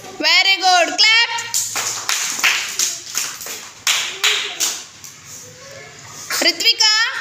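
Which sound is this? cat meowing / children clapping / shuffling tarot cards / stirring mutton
children clapping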